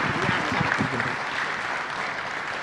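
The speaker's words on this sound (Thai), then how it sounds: "ขอเสียงปรบมือด้วยครับ" A seminar audience at a Thai panel discussion claps after a talk, a dense, even burst of applause that stays steady and fairly loud for the whole stretch.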